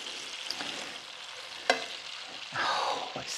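Potatoes sizzle quietly in a covered pan, a soft continuous fry with a sharp clink of the lid or utensil and a brief burst of louder sizzling near the end, with no talk.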